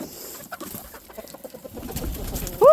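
Chickens in a backyard coop, with scattered soft clucks and bird calls at close range, growing a little busier toward the end and finishing with a sudden louder squawk.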